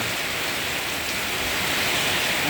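Evening rain falls steadily on a durian orchard in Ban Kruat, Buriram, a dense even hiss without pause, close and fairly loud.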